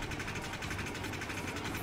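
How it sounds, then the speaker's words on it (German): Eggman's machine in Sonic Adventure 2 Battle gives off a steady, tractor-like engine drone, a low continuous rumble with mechanical vibration that holds evenly through the short stretch, with game music mixed in. "Eggman, warum klingt deine Maschine wie ein Traktor?"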